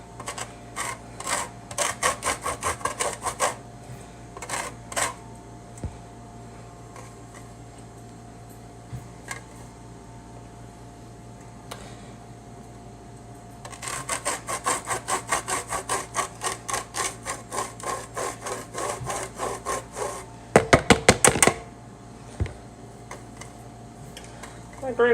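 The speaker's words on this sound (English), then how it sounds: "This is my zesting side." An orange rubbed against the zester side of a grater makes quick rhythmic scraping strokes in bursts, a long run in the middle, with occasional clunks of the grater and some talking.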